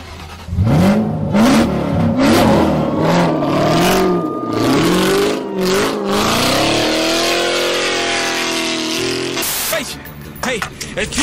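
Toyota Supra engine revving hard in a bank setting, rising and falling pitch sweeps climbing to a sustained high note before cutting off, loud and close, with excited voices over it.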